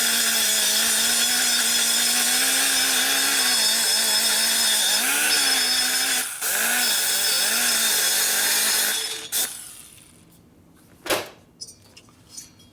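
Power tool deburring a cylinder head from a 1200 Harley Sportster, a continuous high whining grind with wavering pitch for about nine seconds, then stopping, followed by a few short bursts and taps.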